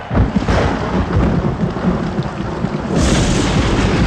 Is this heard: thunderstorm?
yes